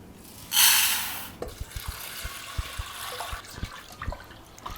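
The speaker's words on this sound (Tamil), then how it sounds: "2 டம்ளர் துவரம் பருப்பை கழுவிப்போம்" Two cups of toor dal being rinsed in a kitchen: a loud burst of running tap water at the start gives way to softer sloshing, swirling water and light knocks of the vessel.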